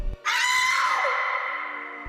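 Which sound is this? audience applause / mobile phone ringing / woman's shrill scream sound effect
woman's shrill scream sound effect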